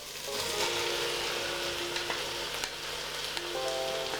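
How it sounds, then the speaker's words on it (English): Chopped onions and leeks sauté in a pot of oil for a vegan potato and leek soup, giving a soft, steady sizzle with a few faint stirring clicks. "my onions are getting a little bit of color already, I'm gonna add in the leeks"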